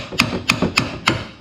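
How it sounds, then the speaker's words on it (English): A hammer taps a stuck brake drum on an EZGo golf cart, four light metallic knocks spaced about a third of a second apart, close and clear with no talk. "So I'm just going to take a hammer"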